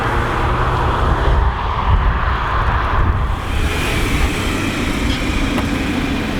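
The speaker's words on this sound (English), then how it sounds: "the way the petrol just picks up, I mean, listen to that, it's brilliant." Mercedes A200 AMG Premium Line petrol engine accelerating, heard from inside the car as a steady, fairly loud low drone with broadband road and wind noise, no talking.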